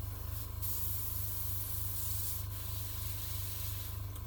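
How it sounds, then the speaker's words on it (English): An airbrush sprays thinned acrylic paint washes onto a Bandai A-Wing model kit, a steady continuous hiss with brief breaks around half a second and two and a half seconds, carried over a low constant hum. "some of it's just airbrush washes really"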